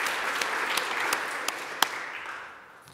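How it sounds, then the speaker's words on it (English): Applause from a conference audience for presenters, a steady wash of clapping with a few sharper individual claps standing out, fading away toward the end. "let's give one more round of applause for Jose and for everyone else that presented"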